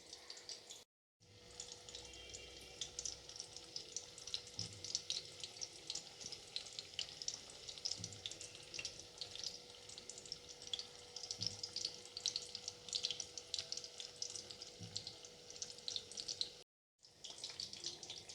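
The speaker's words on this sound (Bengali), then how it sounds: "এক এক করে আস্তে আস্তে আমি ভেজে নিচ্ছি।" Chicken cheese patties fry steadily in a pan of hot oil, giving a continuous, close crackling sizzle with faint pops that runs almost the whole time and breaks off briefly near the start and end.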